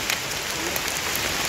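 Rain falls steadily on a mountain trail during a hike up Gede Pangrango, a dense, even hiss with no breaks, close and without voices.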